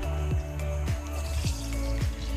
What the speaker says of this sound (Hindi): तो अब इसमें हम पानी शामिल कर देंगे.